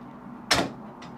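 A door inside a house swings shut with one sharp, close knock, then a fainter short rattle half a second later. The room is otherwise quiet.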